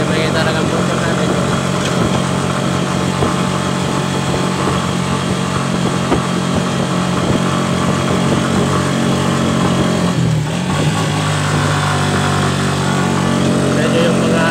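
Loud motorcycle engine while riding near a bridge in Dolores, Abra. A continuous, droning engine hum dominates throughout at a steady pitch, dipping briefly near the end before resuming.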